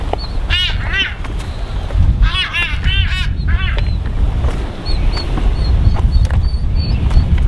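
A frigate bird chick on Genovesa Island in the Galapagos gives harsh, nasal screams in short repeated bursts, close by, over steady outdoor background noise.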